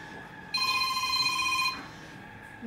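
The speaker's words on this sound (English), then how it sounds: "I'm sorry if the phone is ringing." A telephone rings with bright, trilling electronic tones in a quiet indoor room, one sustained burst of ringing that then cuts off.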